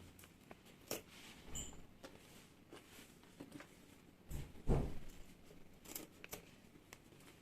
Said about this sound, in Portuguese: Agora aqui pode cortar o excesso de zíper.